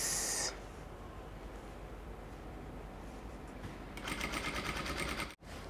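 A sewing machine stitches along the tucked-in raw edges of a bubu dress with an inverted front pleat, a steady whirring run that briefly grows louder and busier near the end before cutting off abruptly, with no voices.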